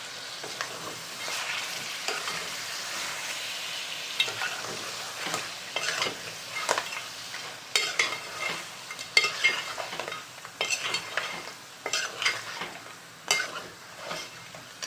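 Mixed vegetable curry is stirred and scraped around a frying pan on the stove, a close sizzling base broken by repeated rhythmic spoon scrapes and knocks that grow busier toward the end.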